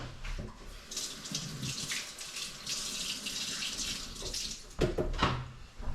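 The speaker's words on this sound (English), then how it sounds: "Take your celery, always rinse it." Celery being rinsed under a running kitchen tap, water splashing steadily with brief bursts as the stalks move through the stream, close and moderate in level.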